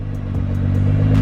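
A stock new car's engine is revved up close: a steady harmonic hum that swells slightly louder toward the end, with no talking.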